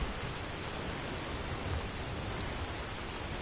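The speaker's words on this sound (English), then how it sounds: "You can almost feel that rain hitting you on the head." Rain falling in the Skyrim video game, a steady, even hiss of dense rainfall that carries on without pause and with no voices over it.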